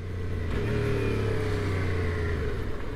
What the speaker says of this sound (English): the throttle blip, regardless of the size of bike you're on, it's still a technique that can be used.